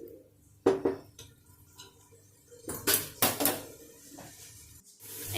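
Spoon scraping and clanking in a pot while chicken biryani masala with fennel is stirred, several loud knocks around the first and third seconds amid lighter scraping, with no one speaking.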